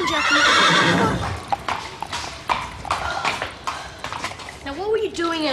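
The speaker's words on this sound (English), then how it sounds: "You're a very bad horse." A horse whinnies loudly and its hooves clop on a hard surface nearby, with people talking over and around it.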